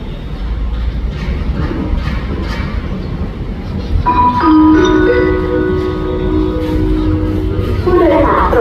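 Thai passenger train 262 pulling into Ban Pong station in Thailand, with a continuous rolling rumble and then squealing brake tones rising partway through as it slows, loud and close, with faint voices in the background.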